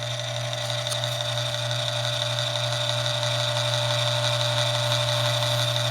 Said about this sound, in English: I'm going to go ahead and turn one case.